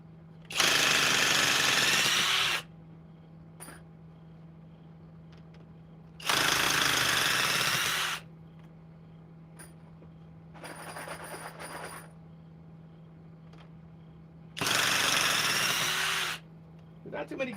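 A hydraulic Menards power tool runs on fasteners in three loud rattling bursts of about two seconds each, with a quieter buzzing run between them over a steady low hum.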